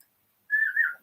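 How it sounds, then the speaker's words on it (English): A single person whistles one short, clear melodic phrase lasting about half a second, rising and falling slightly in pitch, heard alone after a moment of silence. "You start whistling before you know where you are."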